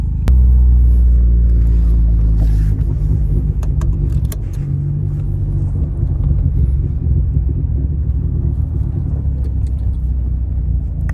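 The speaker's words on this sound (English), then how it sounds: "there's an exhaust leak, so it doesn't sound the best at the moment" A Hyundai Genesis Coupe 2.0T with an exhaust leak runs steadily, heard from inside the cabin as a low, droning engine rumble, with a deeper throb at the start and faint clicks and rattles over it.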